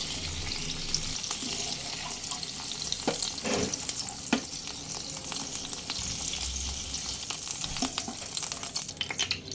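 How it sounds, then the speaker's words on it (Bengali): Pointed gourd pieces frying in hot oil over a medium flame, giving a steady close sizzle and crackle with a few louder pops and spatters, no voices. "মিডিয়াম ফ্লেমে পটলগুলোকে লালচে করে ভেজে নিতে হবে"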